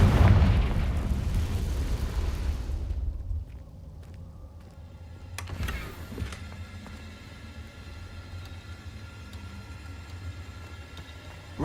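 A blasting-spell explosion in the Hogwarts Legacy video game opens with a heavy, rumbling low boom that lasts a few seconds. A second sharp burst follows midway, then a quieter humming tail.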